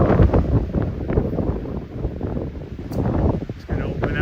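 Wind gusts buffet the microphone on a hiking trail to Dream Lake, rumbling bursts that rise and fall with rustling, and a voice speaks briefly beneath the blustery noise.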